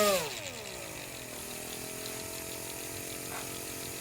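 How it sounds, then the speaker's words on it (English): A Central Pneumatic mini 1/8-inch pneumatic die grinder, Harbor Freight model 68745, starts with a falling burst, then runs as a steady high-pitched air-driven whine with hiss, close and constant. "So there's an on-off, and it's a rotating dial here. So I'll just turn it a little bit."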